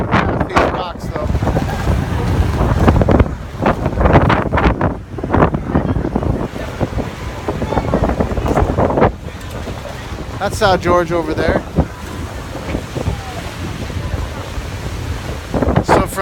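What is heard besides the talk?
wind and waves on a boat coming into Madalena port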